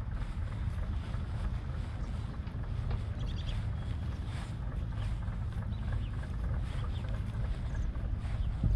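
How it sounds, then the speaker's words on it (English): A low, steady rumble of a fishing boat engine carries across the water at a seaside park in Marblehead, Massachusetts, continuous and moderately distant, mixed with wind noise on the microphone. "If you can hear the fishing boat engine."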